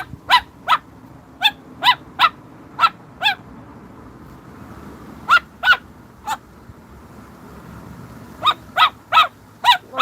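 Dog named Max barking on a patio, loud sharp barks in quick bursts of two to five, with gaps of quiet in between and a faint background hum.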